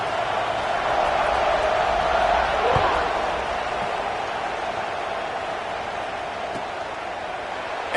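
Broad, steady roar of a stadium crowd at Texas A&M at Clemson in a college football video game, a constant wash of noise with a few faint thumps, no talking heard.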